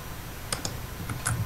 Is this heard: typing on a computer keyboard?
yes